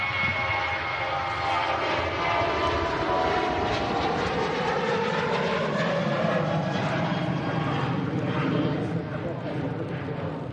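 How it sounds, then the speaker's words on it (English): A Ryanair jet airliner departs Manchester Airport for Brussels, its broad engine roar sustained and fairly loud throughout, while a voice talks over it. "And the Ryanair departing out to Brussels."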